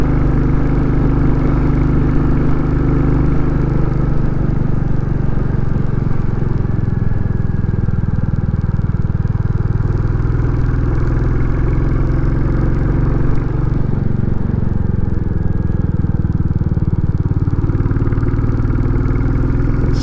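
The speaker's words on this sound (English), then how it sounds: "Sound of that engine is just, oh, it's bliss." A Royal Enfield Classic 350 motorcycle engine thumps steadily and loudly throughout while climbing Mam Tor, a deep continuous rumble with wind noise and no pauses.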